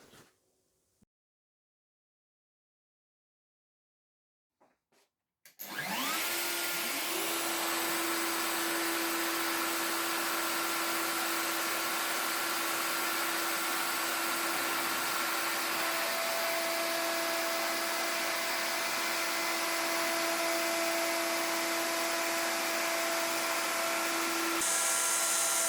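A wood router cuts a groove along a panel clamped over a sacrificial board beside a guide rail, a high whining motor roar starting abruptly after a few quiet seconds and holding steady and loud to the end.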